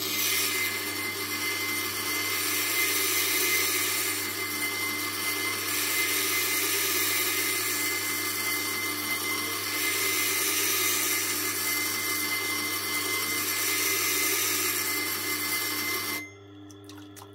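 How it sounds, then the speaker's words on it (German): A Blaurock Blades BRB Fixed Tanto knife is ground on a Tormek T sharpener, a continuous even whirring rasp that runs for about sixteen seconds before cutting off abruptly. "Das heißt, ich muss etwas länger schleifen,"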